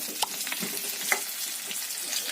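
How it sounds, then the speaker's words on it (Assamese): Onions frying in a pan for a simple pork curry, a steady soft sizzle with a few faint stirring clicks, low and even throughout with no talk. "পিয়াজখিনি মই প্ৰথমে ফ্ৰাই কৰিম।"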